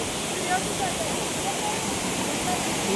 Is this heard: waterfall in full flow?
yes